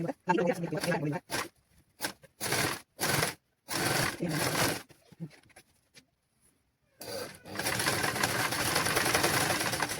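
A sewing machine stitches cloth for children's clothing in short separate bursts with pauses between them, then runs continuously near the end, close and moderately loud.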